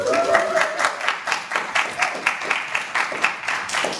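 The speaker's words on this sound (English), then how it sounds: "that round of applause is a little bit underwhelming" Modest applause from an audience at a student question-time debate, thin and fairly rhythmic, with individual claps standing out in a steady, slightly sparse pattern.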